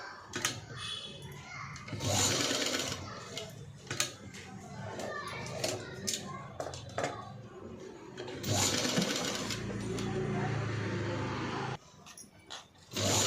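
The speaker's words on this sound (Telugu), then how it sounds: "మొత్తం నెక్ మొత్తం కూడా ఇలాగే ఒడ్డు కుట్ట అనేది తీసుకోవాలి." Sewing machine stitching a blouse neckline in bursts of rapid whirring, stopping and restarting, with someone talking and occasional background voices between runs.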